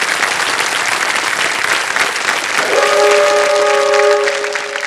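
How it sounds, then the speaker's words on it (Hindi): Studio audience applause on a Hindi television quiz show, a steady dense clapping that fills the whole stretch and swells slightly near the end, with a brief tonal note sounding over it partway through. "आपके लिए ताली बज गई है, बहुत बहुत बधाई आपको।"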